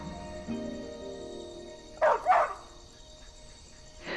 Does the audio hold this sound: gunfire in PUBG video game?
no